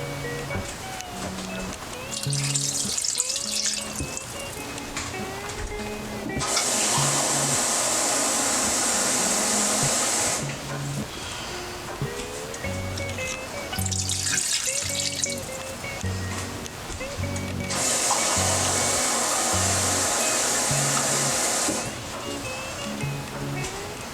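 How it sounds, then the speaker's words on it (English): Water poured into a cooking pot while making adobo, heard as two sustained rushing pours of about four seconds each, separated by quieter kitchen sounds with a faint tonal background. "And then we also add some water. 4 cups of water, so that's the first cup."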